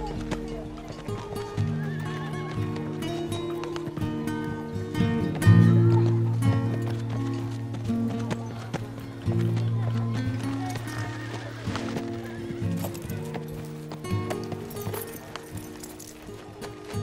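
A horse neighs repeatedly while hooves clip-clop, over sustained music with several loud whinnies standing out.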